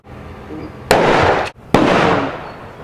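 A Hakkotsu Thunder B grenade goes off: two loud, close blasts about a second apart, each a sharp bang followed by a roaring wash of noise that cuts off abruptly.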